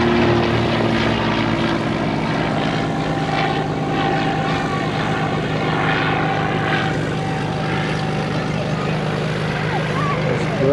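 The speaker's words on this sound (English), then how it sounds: "Gray plane that just fired up is pretty cool. Looks like a little stunt plane." A small gray propeller stunt plane at an airplane display day in Petaluma, California, its engine running with a steady, loud droning hum and fluttering propeller tone, alongside faint background voices.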